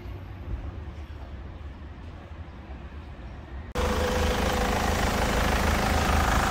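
A 2007 Mercedes C220 engine runs at a low, steady idle rumble, then the sound jumps abruptly to a louder, broader roar that holds to the end.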